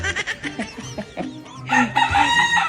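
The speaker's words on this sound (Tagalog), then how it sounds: "Ay, manok ni Andrew." Several chickens cluck and squawk in quick, uneven bursts, close by, with a rooster-like crowing call rising near the end.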